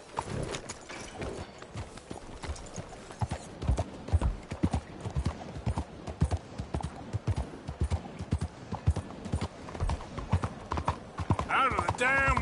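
A horse in Red Dead Redemption 2 gallops with rapid, continuous hoofbeats, close and prominent, and a whinny comes near the end.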